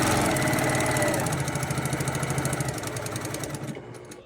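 A sewing machine runs a steady quarter-inch seam down the long side of pieced quilt fabric, a continuous close mechanical whir with fast rhythmic stitching that eases and stops near the end.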